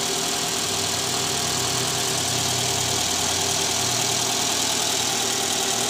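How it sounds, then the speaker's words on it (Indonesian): A Toyota Alphard's 2Z engine idles steadily after a balancer shaft replacement, with a constant, even mechanical hum and faint knocking texture that runs continuously and close up, with no one talking. "Kita cek ulang untuk suara mesinnya ya setelah ganti balancer shaft."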